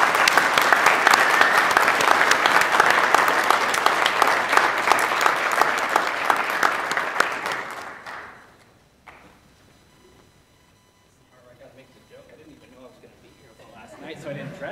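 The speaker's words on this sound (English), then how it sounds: "Round of applause for Brian." A graduation ceremony audience applauds Brian, a loud, steady round of clapping for about eight seconds that fades into near silence, then a little quiet talking.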